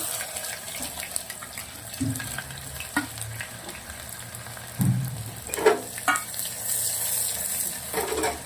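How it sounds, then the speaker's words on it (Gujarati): Onion sizzling and frying in hot oil with dried red chillies, bay leaves and garlic for a Rajasthani dal masala sabji, a steady crackle with occasional stirring scrapes. "ડુંગળીને સરસ સંતરાવા દઈશું તેલના અંદર, પિંક કલરની થાય ત્યાર સુધી."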